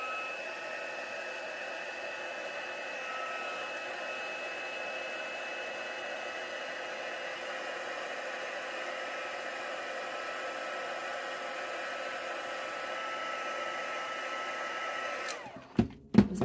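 Steady, fairly quiet whir of a hair dryer blowing over wet acrylic paint on a canvas, holding an even tone for a long stretch before cutting off with a couple of clunks at the end.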